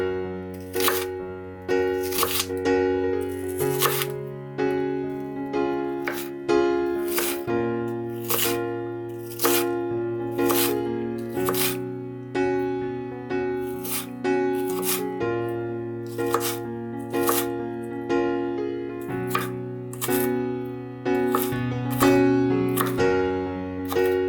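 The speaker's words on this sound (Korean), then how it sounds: "큼직하게 다이스 형태로 잘라주세요." A knife dices an onion into large cubes on a cutting board, making a long run of crisp chopping thuds at a fairly even rhythm, close and clear over steady background music with no talking.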